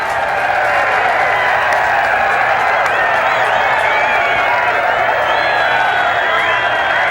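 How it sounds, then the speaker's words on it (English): A golf gallery at the 16th hole roars and applauds after a shot, a loud, dense and sustained crowd of cheering voices and clapping with whistles rising through it. "the crowd here at 16 just explodes"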